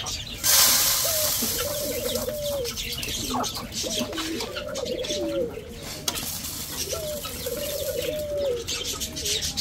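Several repeated clucking, cooing calls from chickens close by, in short rhythmic bursts over a steady outdoor background.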